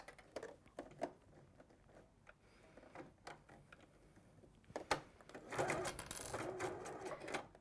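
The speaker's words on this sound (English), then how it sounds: "we're simply going to sew using a 1/4 inch seam allowance on here." A sewing machine stitching a quarter-inch seam runs quietly in short bursts, then speeds up into a louder steady whirr near the end, with faint talk in the background.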